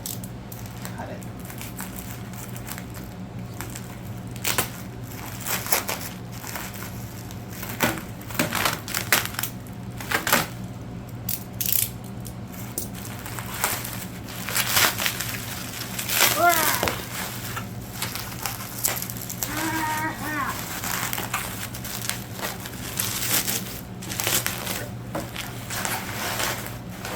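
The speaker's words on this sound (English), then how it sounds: "this is bubble wrap, but I'll cut it" Bubble wrap around an HP Pro 3000 MT desktop computer being cut open, with scattered crinkling, snipping and crunching sounds close by at irregular intervals.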